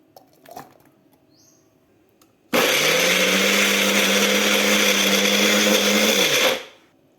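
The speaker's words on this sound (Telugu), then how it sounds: "వీటిలో పచ్చిమిర్చి కూడా వేసుకుందాం ఇది మసాలా ఉల్లిపాయలు మిసి పట్టుకుందాం" A mixer grinder whirs loudly at close range for about four seconds as it purées green chillies, onions and masala, starting abruptly after a faint tap and stopping cleanly.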